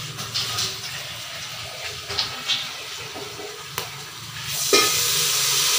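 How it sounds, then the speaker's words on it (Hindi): Masala for a rice dish sizzles and hisses steadily in a pan, then water is poured in near the end, setting off a louder, bursting sizzle with no talking. "अब इसमें हम थोड़ा सा पानी डालेंगे"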